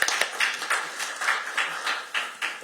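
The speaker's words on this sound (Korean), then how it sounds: "다시 한번 또 큰 박수 부탁드리겠습니다" Sparse, close claps from a small audience at a Korean political party committee launch event, sounding as separate rhythmic hand claps rather than a full ovation.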